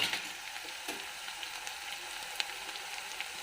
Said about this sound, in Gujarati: ડુંગળી થોડીક સંતળાઈ ગઈ છે. હવે આપણે લીલું લસણ એડ કરશું.